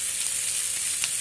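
Thin strips of pumpkin and potato fry in a pan with spices, giving a steady, close hiss of oil with no talking.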